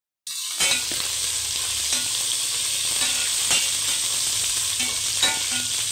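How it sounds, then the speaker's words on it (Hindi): Steady sizzling and crackling of onions browning in a hot pan, close by, with occasional light clicks from stirring and no speech. "प्याज मेरे ब्राउन हो रहे हैं अभी।"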